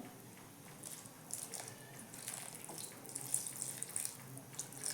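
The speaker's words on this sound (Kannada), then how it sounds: "ನಾನು ಅಂದಕ್ಕ ರೊಟ್ಟಕ್ಕ ಮಾಡೋದ್ರಿಂದ ನೀರು ಜಾಸ್ತಿ ಹಾಕಕತ್ತೀನಿ ರೀ" Water pours and splashes faintly into a bowl while roti dough is being mixed, a soft running trickle with light wet squishes.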